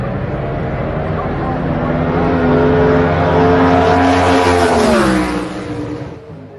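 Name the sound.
twin turbo stock computer Ford Coyote race car engine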